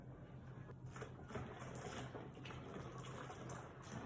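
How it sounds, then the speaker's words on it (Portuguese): Room-temperature water pours steadily into a homemade laundry detergent paste, making a continuous splashing, gurgling fill sound at moderate volume with no speech. "Agora eu já estou colocando água em temperatura ambiente."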